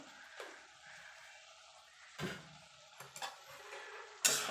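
A spoon stirs cabbage and prawn curry in a pan, making a few separate scrapes and clinks against the metal, quiet and close, with a soft sizzle in between.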